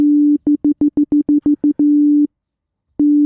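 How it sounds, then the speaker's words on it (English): Plain sine wave tones from the Serum 2 synth, a steady low pitch that stutters in a rapid run of about ten short pulses, holds, stops for a moment of silence, then returns, clean and alone. "I'm just going to bring up some sine waves."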